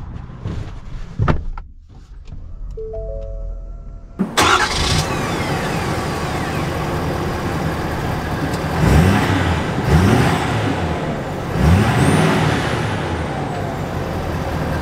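A 2021 Ford F-350 Tremor pickup: a door thump and a short electronic chime, then the engine fires and the truck pulls away. A steady cabin drone follows, with audible gear changes as it rises and falls.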